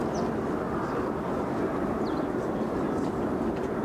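Heavy airliner jet engines roaring steadily up close at Brussels Airport during landing or takeoff, a continuous loud broadband rumble with no breaks.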